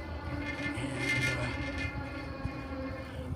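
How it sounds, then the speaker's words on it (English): A front fender vibrating on a moving ride gives a steady, close mechanical rumble and drone with a faint rattle running through all of it, without pauses and without speech. "what you're hearing is the front fender kind of vibrating"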